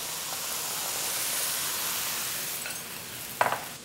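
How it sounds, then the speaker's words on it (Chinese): Crab sauce thickened with cornflour hits a hot wok in a spicy crab dish, giving a steady soft sizzling hiss with light stirring, ending in a few brief scraping clicks. "就这样倒进去，"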